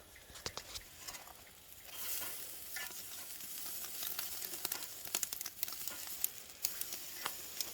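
Steak frying in a pan, a soft continuous sizzle with crackling pops and spits scattered throughout, fairly quiet and without talk.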